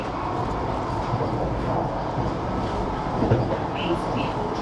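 Vande Bharat Express on the Puri–Howrah run at full speed, a steady low rumble of wheels and carriage noise from on board with faint rhythmic clatter.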